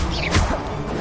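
A short Incendio fire spell in Hogwarts Legacy bursts out as a dense whooshing crash, loud and close, lasting about a second.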